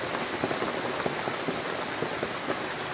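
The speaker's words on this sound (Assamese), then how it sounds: "বৰষুণ আহি গ'ল। এই কলগছৰ কলপাতৰ তলত আছোঁ।" Steady rain patters on broad banana leaves overhead in a garden, a dense, close hiss of drops with small taps standing out throughout.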